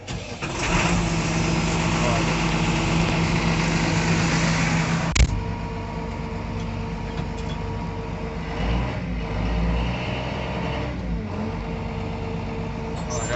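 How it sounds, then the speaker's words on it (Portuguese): A truck engine runs at a sugarcane harvest loading site, with a sharp knock partway through and a steady mid-pitched drone that continues under loud talking. "Vou acelerar lá que eu já vou indo atrás já."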